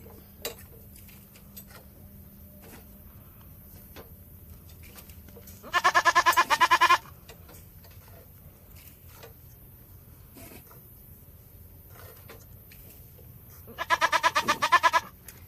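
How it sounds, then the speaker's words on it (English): Dairy goat bleating during hand milking: two loud, pulsing bleats about eight seconds apart, each lasting roughly a second, standing out over a quiet barn with faint ticks and clicks. "She's a dairy goat."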